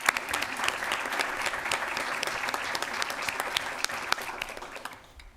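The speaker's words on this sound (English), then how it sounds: "And let's give them a great round of applause." An audience at a formal school board meeting applauds the Human Resources team, a steady wash of clapping with sharp individual claps standing out, fading at the end.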